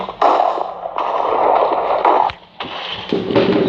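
Explosions in Minecraft PE: several bursts of rushing, crackling blast noise, loud and close, each lasting around a second, with a brief quiet gap between the final bursts.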